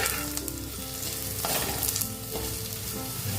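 Sago khichdi sizzles and fries in a pan while being sautéed and stirred, a steady close crackle with scraping stir strokes and no voices.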